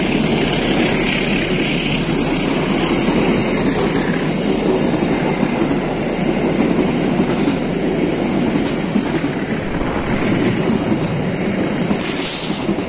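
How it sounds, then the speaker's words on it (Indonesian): The Turangga passenger train rolls past close by in the morning with a loud, sustained rumble and rhythmic clickety-clack of wheels on rails, steady for the whole stretch. "Kereta api Turangga yang melintas di pagi hari merupakan suatu hal yang mengejutkan"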